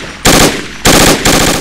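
Gunfire in the video game Project Reality on the Fallujah West map comes as three loud, close bursts of rapid automatic fire in quick succession.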